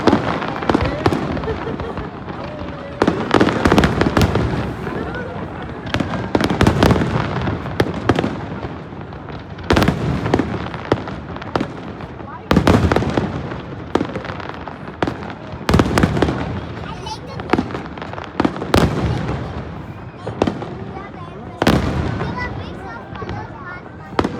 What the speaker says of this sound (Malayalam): Fire show സ്റ്റാർട്ടായി. ഇതാണ് national day special fire show.